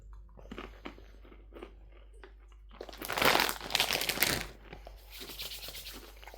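Takis Intense Nacho rolled tortilla chips are bitten and chewed up close, with soft crunches building to a burst of loud, crackly crunching, mixed with faint bag crinkles.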